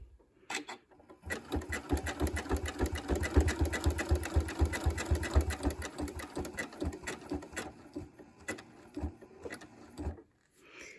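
Sewing machine top stitching a quilt binding at a mitered corner, a fast rhythmic mechanical whir of stitches lasting several seconds, starting and stopping with a few slower single stitches near the end.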